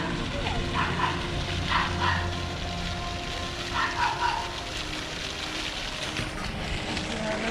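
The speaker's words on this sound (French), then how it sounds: "il y a un chien un peu énervé là-bas" An agitated dog barks in short bursts somewhere off at a distance, faint against steady outdoor wind and ambient noise near a large building at a theme park.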